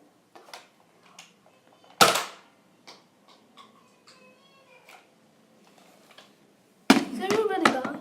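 A Nerf Zombie Strike FlipFury two-barrel foam blaster fires in sharp, loud bursts, one near the start and a longer one at the end, with scattered clicks and handling noises between them.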